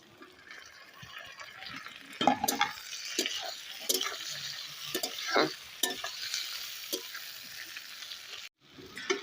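Tomatoes go into half-boiled potatoes frying in a pan for a puti fish chorchori, giving a soft ongoing sizzle broken by several sharp stirring scrapes and clanks, fairly quiet overall.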